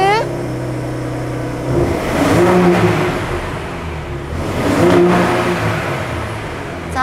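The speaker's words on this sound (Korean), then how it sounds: "자 시동 버튼부터 갈게요 여러분." A Ford F-150 Raptor pickup's engine starts and revs in quiet exhaust mode, a steady loud drone rising into two swelling rev surges, with people talking over it.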